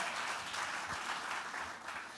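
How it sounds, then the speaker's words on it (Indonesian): Congregation applauding at a church sermon, a dense wash of clapping that holds steady and fairly loud throughout the short stretch without any talk over it. "tepuk tangannya yang paling meriah buat Yesus Tuhan kita"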